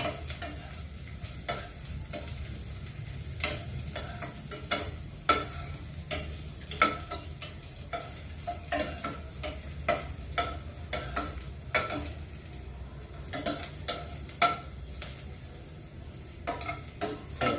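Tinapa frying in a pan with onion and garlic, stirred steadily: a low bed of sizzle punctuated by repeated sharp scrapes and knocks of the spatula, regular and close, with no voices.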